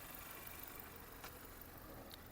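A Renault Modus petrol engine with an automatic gearbox and 97,000 km idles with a steady, even, faint low hum and no other sounds.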